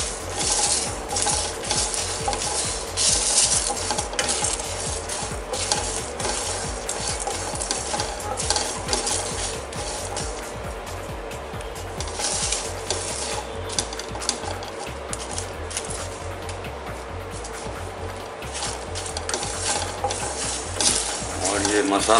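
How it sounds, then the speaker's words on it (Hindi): Whole spices with fenugreek seeds dry-roasting in a pan, a dense rattling and scraping as they are stirred continuously, close and fairly loud throughout. "ये मसाला हमारा सारा रोस्ट हो चुका है, साबुत मसाला"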